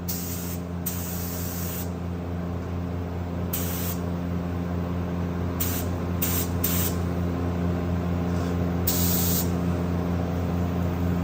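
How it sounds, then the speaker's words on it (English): A professional spray gun sprays paint along a plastic surface, a steady loud hiss broken by several short bursts and pauses, heard close up. "I'm just going to give it a quick spray along the plastic here"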